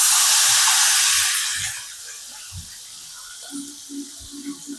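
Ground masala hits hot oil in an iron kadhai, letting out a loud, bright sizzle that fades after about two seconds into a quieter, settling crackle with a few soft clinks.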